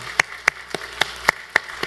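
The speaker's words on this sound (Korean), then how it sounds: "우리 박수로 한번 우리 환영하고 축복하면 좋겠습니다" Church congregation clapping to welcome a visitor during a Sunday service, heard as sparse, evenly spaced claps about every quarter second, fairly faint and thin rather than full applause.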